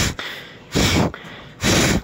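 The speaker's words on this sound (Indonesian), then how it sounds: "Jadi menghembuskan napas panjang ataupun ngehembos itu" Civet (musang) in heat giving long snorting exhales, three forceful breathy bursts in steady rhythm, close and loud with brief pauses between.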